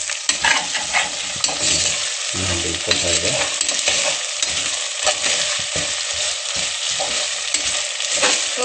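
Ginger-garlic tempering frying in a pot for white chicken pulao, a loud close sizzle with repeated scraping stirs and clatters, and a single short spoken word.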